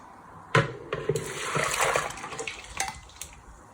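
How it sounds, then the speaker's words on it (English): Boiled potatoes tipped into a colander while making cottage pie, water splashing and pouring for a few seconds with a sharp initial slosh, near and fairly loud, no talk. "Next step is to drain your potatoes and use your colander."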